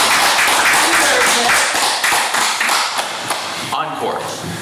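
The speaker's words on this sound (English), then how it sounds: "Some applause for that." Audience applause at a town select board meeting in Sterling, a brief burst of hand clapping from a room of attendees that fades toward the end, with some talk underneath.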